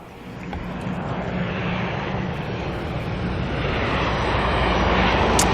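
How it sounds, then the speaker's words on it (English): An ATR turboprop arrives from Napier at Auckland Airport, its broad propeller and engine rumble swelling steadily louder as it draws closer, with no voices over it. "ATR here making its way in from Napier."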